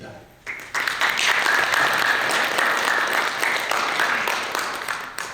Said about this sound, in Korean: 그래서 여러분들한테 제가 박수를 드리고 싶습니다.